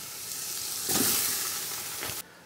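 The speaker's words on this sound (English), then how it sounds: "You can set your meat in there. Oh, oil's hot. And you're gonna brown all the meat" Ground meat browns in hot oil for pasta fagioli, a close, bright steady sizzle that swells briefly as the meat is moved, then drops away abruptly.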